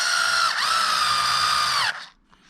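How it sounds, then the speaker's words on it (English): An electric screw gun whines loudly and close as it drives plastic screws into plastic on a Traxxas Maxx RC truck, holding a steady high pitch for about two seconds, dipping briefly, then cutting off into quiet. "But I've done this plenty of times with a screw gun."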